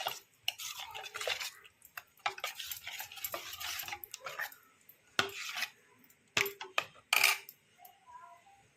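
A spoon stirs blended raw mango paste into yogurt in a bowl, giving close, irregular scraping and clinking against the sides, with a few sharper knocks and no talking.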